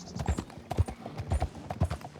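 Horse hooves clip-clop in a steady, fairly loud rhythm in Red Dead Redemption 2, a quick repeating pattern of thuds up close with no voices over it.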